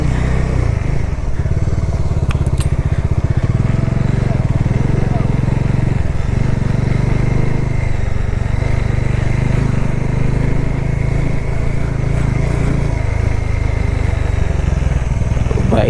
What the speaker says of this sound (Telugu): బైక్స్ వెళ్తున్నాయి